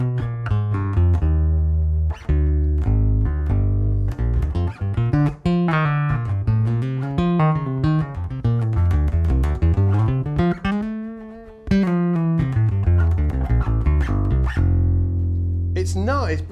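A Cort acoustic bass guitar runs through an amplifier with all EQ set flat, playing a continuous line of deep, full notes that slide up and down with a few brief pauses, loud and close, with no talking.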